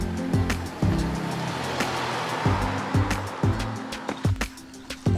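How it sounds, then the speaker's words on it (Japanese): Water sprays heavily over a Honda Odyssey Hybrid RC4 during a hand wash, a steady rushing hiss with intermittent splashes and thumps, close by and with no voices. "水を多めにかけて洗っていきます。"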